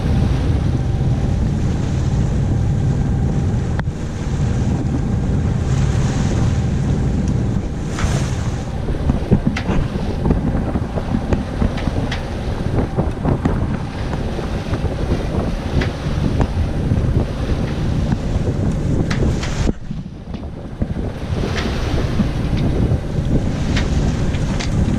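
A roughly 10-knot southwest wind at sea off Oceanside aboard a sailboat, with steady gusty wind buffeting and water wash around the hull, and a couple of sharp knocks, no talking.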